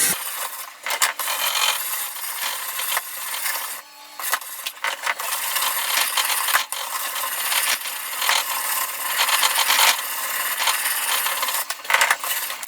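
A knife is sharpened on a whetstone in a Ruixin Pro RX009 sharpener, giving close, steady gritty scraping strokes in a continuous back-and-forth rhythm with brief pauses between passes.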